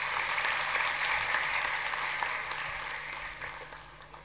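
A hall audience at a state-level Labour Day workers' honour ceremony in Maharashtra applauds loudly and continuously, a thick wash of clapping that eases slightly toward the end.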